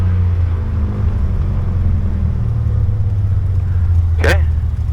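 A small training plane's engine idles at about 1,000 RPM with a steady low drone throughout, and a pilot's voice is heard above it during the preflight checks.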